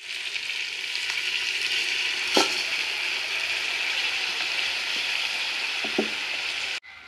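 Potatoes frying in a pot with a loud, continuous close-up sizzle, broken by a few sharp scrapes and clicks of a stirring utensil before the sound cuts off abruptly at the end.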